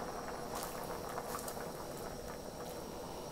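Potatoes simmering in a pot for trout chowder as corn is added, a steady soft bubbling hiss with faint patters and light clinks throughout, no voices.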